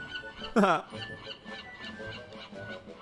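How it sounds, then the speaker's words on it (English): Seagulls in the game Escape from Monkey Island give one loud, sharp squawking call near the start, while quieter game ambience continues underneath. "Well, I can hear some seagulls."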